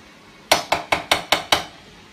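A utensil stirring beetroot in a pan strikes the pan again and again, giving six sharp, loud metallic clinks at an even quick pace, close by with no talking.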